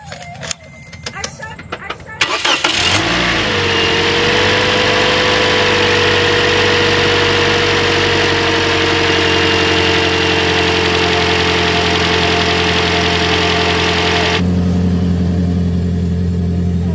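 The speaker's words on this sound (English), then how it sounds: "now it's time to start the engine and see how things goes." A Scion xD car engine cranks and catches after a few seconds of rustling and handling noise, then settles into a loud, steady idle that holds before cutting back near the end.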